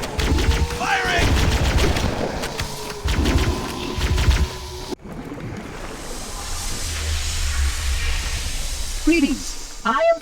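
Rapid bursts of gunfire and booming explosions fill a battle in Halo: Combat Evolved, loud and continuous at first before giving way to hissing and distant rumbles, with voices talking over parts of it.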